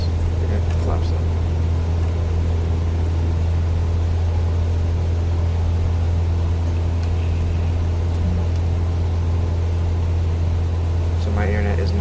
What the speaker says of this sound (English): Got a little bit of turbulence here, a lot of wind.